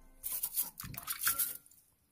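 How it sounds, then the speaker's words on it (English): Ginger is rubbed and rinsed in a bowl of water, giving a few soft, close splashes and squishy sloshes in short bursts, fairly quiet overall. "You see how I wash the ginger"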